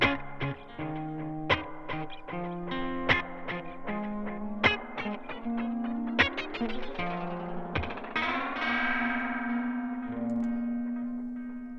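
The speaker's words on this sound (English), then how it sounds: "you can hear that classic space echo kind of sound happening on the guitar parts there" Guitar runs through a Delay TAPE-201 tape-style space echo set for a dubby sound, each plucked phrase trailing off in repeating echoes that build into a swirling, sustained wash by the end.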